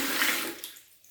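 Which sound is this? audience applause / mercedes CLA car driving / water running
water running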